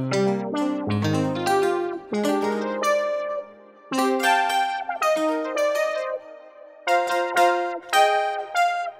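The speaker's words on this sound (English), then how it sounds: "a different type of sound like this 12-string guitar" A Roland SH-2 analog synthesizer set to a 12-string guitar sound plays a run of plucked, bright, ringing notes and chords with bursts and short gaps, loud and alone.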